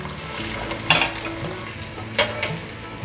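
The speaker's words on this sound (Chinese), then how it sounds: "再继续煎成焦黄色" Tofu pan-frying in oil until golden brown, a soft steady sizzle with two brief scraping spatula stirs against the pan, close and fairly quiet.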